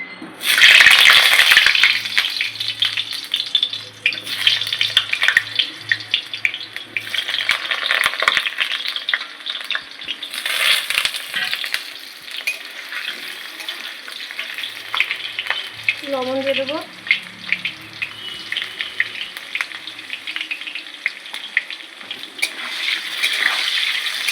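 Potatoes fry in hot mustard oil with a loud, steady sizzle and crackle, broken by occasional stirring and scraping, with no talk over it.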